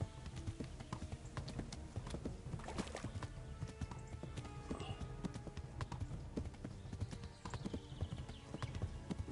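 Horse hooves clip-clop in the medieval video game Kingdom Come: Deliverance, a fairly quiet but continuous galloping patter of rapid hoofbeats with occasional snorts and some speech over the top.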